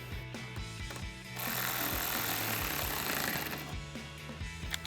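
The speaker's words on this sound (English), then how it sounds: "grab a T15 torque socket to tighten down the top screw" A T15 Torx socket on a ratchet tightens the top screw of a Denali-style upper replacement grille on a 2014-2015 GMC Sierra 1500, with rapid ratcheting clicks close by and a denser burst of mechanical rattling in the middle.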